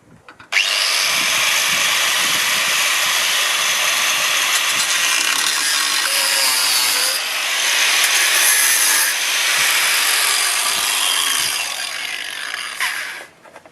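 Harsh, continuous grinding of a cutting tool biting into a rusty metal trailer frame, loud and close, running steadily for several seconds before cutting off.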